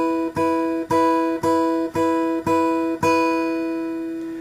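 A song played fingerstyle on acoustic guitar, ringing chords plucked in an even eighth-note pattern, six regular attacks followed by a final chord left to sustain and fade, clear and close with no voices.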